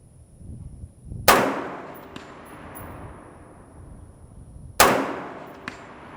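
An AR-15 rifle fires two sharp, loud shots at a target a few seconds apart, each crack followed by a decaying echo, with faint clinks in the quiet between.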